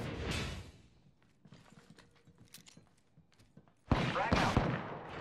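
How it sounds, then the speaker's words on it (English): Video game gunfire in short, sharp bursts: a quick volley at the start, a quieter stretch of scattered clicks, then a louder rapid cluster near the end. "Getting shot at."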